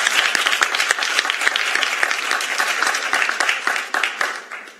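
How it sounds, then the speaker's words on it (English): An audience's round of applause at an early education innovation challenge event, with dense, sustained clapping and sharp individual claps standing out, holding steady before tapering slightly near the end. "So can we have a round of applause for the scaling track?"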